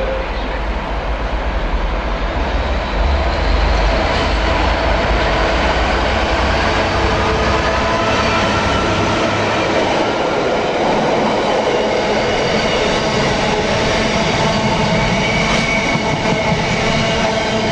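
A locomotive-hauled train at Stafford station rumbles past steadily and loudly, with continuous wheel and rail noise and a broad roar that holds for the whole stretch.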